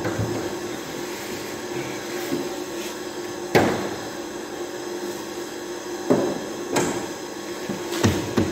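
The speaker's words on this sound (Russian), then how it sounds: "Открываем капот." The hood of a Honda CR-V is released and raised, with a few sharp clunks and latch knocks spaced apart over a low steady background hum, close by and without talk.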